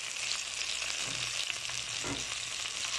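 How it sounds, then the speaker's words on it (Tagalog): Shrimp frying in a pan with garlic, onion and tomato, a constant close sizzle with a soft stirring scrape partway through and no talking. "Ngayon ilagay ko na ang hipon."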